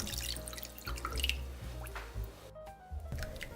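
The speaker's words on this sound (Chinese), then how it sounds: "把牛腩放进大锅里，加清水，刚好没过牛腩。" Water poured from a tap into a large pot over beef brisket, with close, irregular splashing and dripping that fades into a brief pause before resuming.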